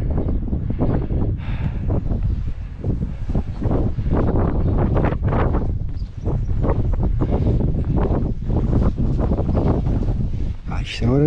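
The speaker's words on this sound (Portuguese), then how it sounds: "Há vento!" Strong wind buffeting the microphone on an outdoor walking trail of the Portuguese Way of Saint James near Soalheira, Fundão, a steady loud rumble running the whole time with people talking over it.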